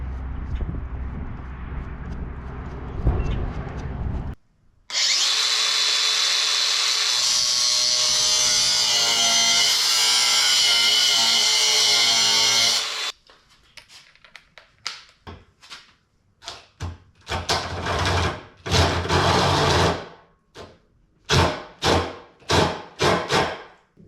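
Metal bolts being cut to length with a power tool, a harsh steady grinding whine for several seconds, then a series of short loud cutting bursts with brief pauses between them, no talking.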